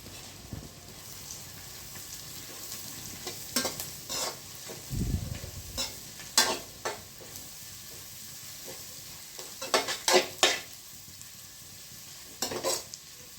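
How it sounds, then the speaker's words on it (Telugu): Vegetables and cabbage stir-fried together over a high flame for egg noodles, a steady close sizzle punctuated by sharp spatula scrapes and clinks against the pan. "ఇప్పుడు వీటన్నింటినీ ఒక 1 సెకండ్ పాటు హై ఫ్లేమ్లో కలిపేసుకుందాం."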